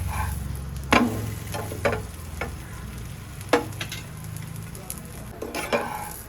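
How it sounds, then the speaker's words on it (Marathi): A paneer paratha cooks on a hot pan, giving a soft steady sizzle broken by several sharp scraping clinks of a spatula as it is turned, close and moderately quiet. "आता आपण यावर आपला पराठा करूया. पराठा आपण उलटून घेऊया."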